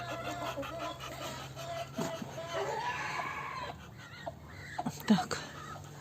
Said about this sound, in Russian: Вот мои куры, петушки.